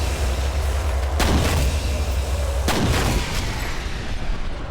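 Two heavy, booming gunshots ring out in the F.E.A.R. shooter game, a couple of seconds apart, over a loud continuous low rumble of ambience.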